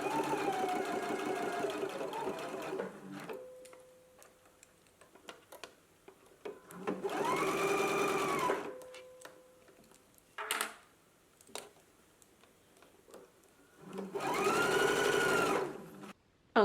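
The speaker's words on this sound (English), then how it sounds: "we can go ahead and stitch at a 5/8 of an inch seam allowance, and then we're going to stitch again a 1/4 of an inch away to do a double stitch" A sewing machine stitches a sleeve seam, running in three steady whirring bursts of a few seconds each with quiet pauses between them, plus a few faint clicks and handling sounds.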